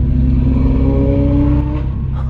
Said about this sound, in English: F12 TDF behind me. I'm gonna let him pass. Listen to that.